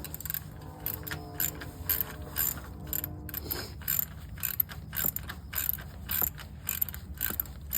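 A ratchet clicks in quick bursts while bolts are tightened during a tune-up on a 1970 VW Beetle, with the rapid pawl ticking coming close and clear and brief pauses between runs.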